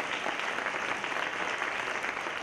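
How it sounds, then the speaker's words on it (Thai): A church congregation claps together in praise of God, a steady wash of many hands applauding at moderate distance, fairly quiet and uniform throughout. "ปรบมือสรรเสริญพระเจ้าด้วยกัน"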